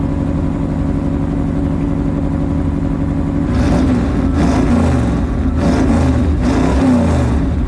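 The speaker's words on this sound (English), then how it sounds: "Let's hear some revs." A ramp truck's engine idles steadily, then revs hard in several loud bursts around the middle and end, the roar swelling and falling back each time, close by with no talking.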